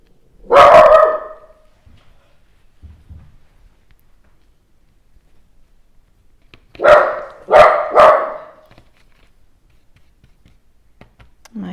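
A dog barks nearby, first a single loud bark and then a quick run of three sharp barks after a long quiet stretch.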